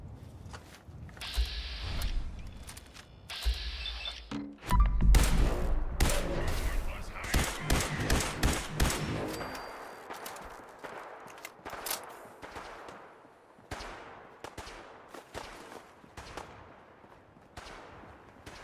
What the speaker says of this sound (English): Who's shooting at what?